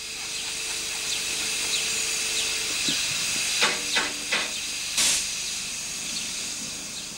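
Steam hisses from Southern Maid, a steam locomotive on a miniature railway, as it is turned on a turntable; faint steady hissing is broken by several sharp louder bursts of escaping steam.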